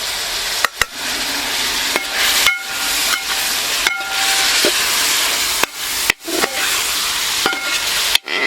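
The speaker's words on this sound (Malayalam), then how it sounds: "ഇതെല്ലാം കൂടി ഒന്ന് ചെറുതായിട്ട് മൂക്കണം" Chillies and garlic sizzle loudly in a hot pan for a Kerala-style beef roast. The frying hiss is steady and close, broken by repeated scraping knocks of stirring.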